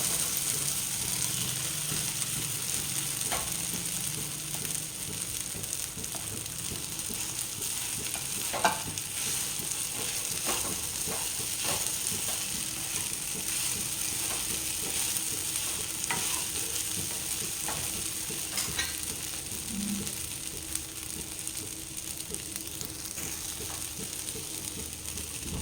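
A tempering for sabudana khichdi sizzles in hot oil in a pan, with the gas turned off: a steady close frying hiss with scattered faint pops and occasional light clicks of stirring, and no one talking.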